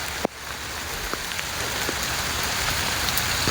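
Steady rain patters across a corn field, a dense, even hiss of drops close by with a few sharper individual taps and no voices.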